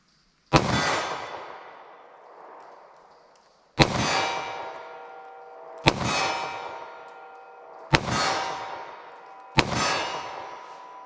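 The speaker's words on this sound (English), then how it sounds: "I'm actually going to do my short barrels first because I want to see how this 38 Special does from 25 yards." Five sharp gunshots from a short-barrel .38 Special revolver, fired slowly at a 25-yard target. Each loud crack is followed by a ringing metallic decay and comes at roughly two-second intervals.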